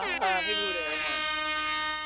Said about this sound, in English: Let me get an air horn.